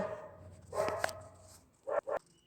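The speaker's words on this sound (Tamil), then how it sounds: "நாய் குலைக்குது என்னன்னு பார்த்துட்டு வரலாம்" A dog barks outdoors a short distance away, one bark followed by a quick pair of sharp yaps, over a faint steady background hum.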